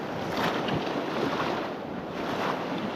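Churned, storm-stirred ocean surf at a Gulf beach after Hurricane Bertha, a steady loud roar of breaking waves with gusting wind buffeting the microphone, no voices.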